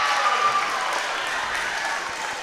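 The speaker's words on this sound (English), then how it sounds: "They're still cheering on this second unit" A bench of players at a high school girls' basketball game cheers and claps, a steady wash of crowd noise and applause holding at even loudness for a couple of seconds.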